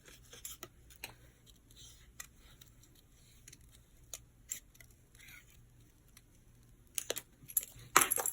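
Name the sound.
scissors fuzzy cutting paper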